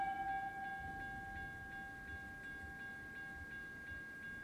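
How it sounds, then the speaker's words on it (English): A train moves past a railroad junction in a radio drama effect, a steady low rumble under a repeating high whistle-like tone, heard alone. "to let a train pass by"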